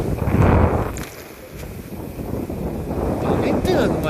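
Strong wind buffets the microphone on a boat out at sea in choppy, wavy water, a steady broadband roar with gusts swelling and easing, while a voice speaks intermittently beneath it.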